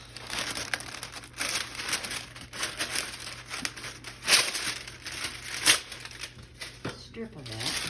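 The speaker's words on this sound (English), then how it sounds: "and put the parchment on top of that." Parchment paper crinkles and rustles in bursts as it is pressed into a 5-inch loaf pan for baking, with several sharper crackles in the middle, heard close up with a person talking throughout.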